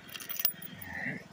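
Car keys for a 2014 Chevrolet Impala Limited jingle briefly as they are grabbed, a short close metallic jangle while a person speaks.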